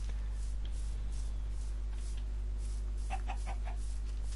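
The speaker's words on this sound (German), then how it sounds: "Da ist noch ein Huhn." A chicken clucking in the video game Minecraft, a few short clucks near the end over a steady low electrical hum and quiet background noise.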